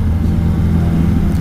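A Yamaha Tracer 900GT three-cylinder motorcycle fitted with an aftermarket exhaust runs with a steady, deep, loud engine rumble that holds at an even level throughout.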